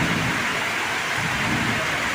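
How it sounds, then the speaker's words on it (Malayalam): Heavy rain pours during a night storm in Kerala, a dense, steady hiss of downpour that stays loud and unbroken throughout, with no voices. "ഏതായാലും മഴ മാറാൻ വേണ്ടി പ്രാർത്ഥിച്ചുകൊണ്ട് നിൽക്കുകയാണ്"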